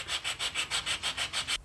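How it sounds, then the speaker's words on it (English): Steady hand sanding on the wooden scoop of a toy skid steer, about ten even back-and-forth rasping strokes in a regular rhythm, close and clear with no talk, ending in a brief pause. "So just continue sanding this until you get the angle of your base piece to be equal with the angle of your sides of your scoop."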